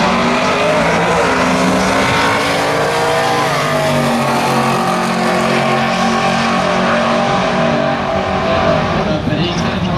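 Drag race at a winter nationals meet, a truck chasing down a red HT Kingswood, engines roaring loud and continuous with a rising rev toward the end, a commentator talking over the racing.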